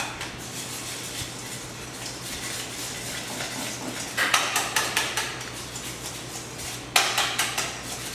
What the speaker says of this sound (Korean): 버터를 덩어리 없이 마찬가지로 풀어주시면 돼요.